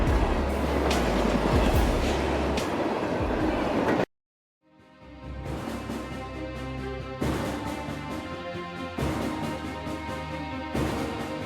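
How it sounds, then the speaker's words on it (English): A train approaching a railway crossing gives a loud, continuous rumble, cut by about a second of silence before the roar resumes and holds steady. "A reckless attempt to cross the tracks as the train approached came at a steep price."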